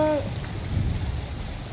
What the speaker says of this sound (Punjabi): ਮੀਂਹ ਬਹੁਤ ਜ਼ਿਆਦਾ ਆ ਬਹੁਤ ਤੇਜ਼ ਆ ਮੀਂਹ ਆ